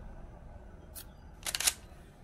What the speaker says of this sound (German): hier muss man einmal, zweimal ziehen und dann geht erst der Auslöser hier vorne